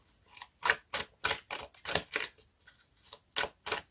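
Tarot cards being cut, a quick series of crisp flicking and slapping taps with brief gaps between them, close and fairly quiet, with no voice.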